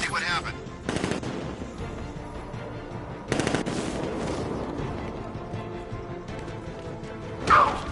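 Gunfire in Batman Arkham Knight, short bursts of rapid shots separated by quieter stretches, with a louder burst near the end, all over a steady game background.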